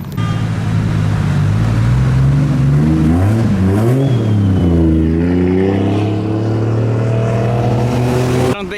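A Nissan 240SX engine runs loud and close while the car is maneuvered into a parking spot, a steady low drone whose pitch rises and falls with gentle revs.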